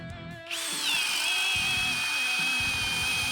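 A Ridgid Octane 18V hammer drill driving a Bosch spade bit through wood, starting abruptly after a brief pause and holding a loud, steady high-pitched whine with a grinding undertone, close by and with no voices.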